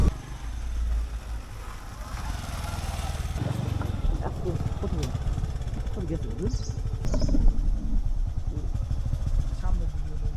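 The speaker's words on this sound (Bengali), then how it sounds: "পাকা রাস্তা ছেড়ে গ্রামের মেঠো পথে ধুলো উড়িয়ে আমাদের মোটর বাইক ছুটে চলেছে।" A motorbike runs along a dusty unpaved village road after leaving the paved road, its engine putting out a continuous near throaty drone that rises and falls slightly, with faint bird chirps above it.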